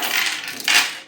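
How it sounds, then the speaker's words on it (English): A bunch of keys is set down on a surface with a bright metallic jingle, then a second louder clinking settle a moment later. "Let's put my keys down."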